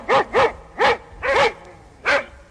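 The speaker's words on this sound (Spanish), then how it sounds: "Los perros ladran," Dogs bark outdoors at night in five sharp, fairly close woofs, some coming in quick pairs, with short gaps between them.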